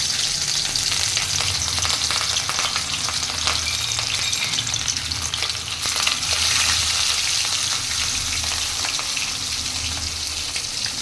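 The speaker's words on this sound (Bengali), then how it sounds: "তেলটা ভালো করে গরম হয়ে গেছে, এবার মাছগুলো আস্তে আস্তে দিয়ে দেবো।" Pieces of katla fish fry in hot mustard oil, giving a loud, dense, continuous sizzle and crackle up close, with occasional stirring noises and no talking.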